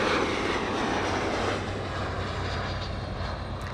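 A Virgin Atlantic airliner on flight 141 from London Heathrow arrives at LAX from the south side, its engines a broad, steady roar that holds strong and close throughout.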